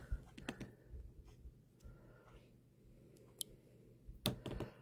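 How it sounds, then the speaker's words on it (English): Quick typing on a computer keyboard, faint scattered clicks and taps in short irregular bursts in a quiet room, no talking. "I'm going to just type a quick comment in here"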